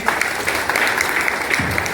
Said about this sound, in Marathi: आपण पुन्हा एकदा टाळ्या वाजवायचे